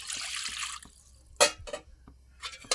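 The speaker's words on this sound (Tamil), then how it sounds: "தண்ணி ஊற்றி அலசி ஊற்றி" Water is splashed and poured into a pot of fish curry with stone-ground masala, coming in a few short, close sloshing bursts separated by quiet pauses.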